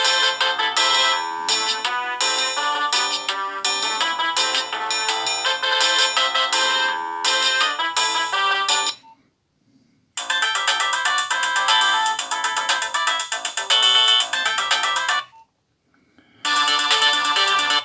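A Nokia 2310 mobile phone plays its bright electronic ringtone melody loudly and close, repeating in looped phrases broken by two short silent gaps.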